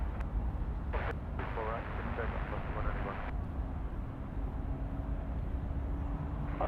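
A LATAM Chile Boeing 787 taxis at Sydney Airport toward a holding point for runway 34 right, a steady low jet engine rumble and whine running throughout, with a voice talking over it.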